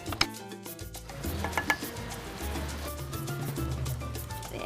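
Mashed potatoes being mixed with a salt-and-pepper seasoned milk mixture, giving a steady soft rubbing and scraping texture with irregular small knocks throughout, close and moderately quiet, with no talking.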